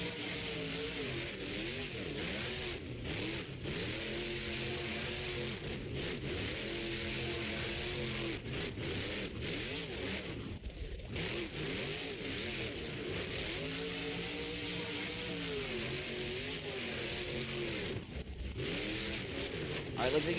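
A monster truck at a Monster Jam arena event, running on three tires, revs hard with rising and falling engine roars throughout. The engine stays loud and continuous, and an announcer talks over it.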